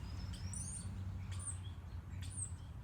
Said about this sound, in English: I'm breathing in the sunshine and the chirping birds.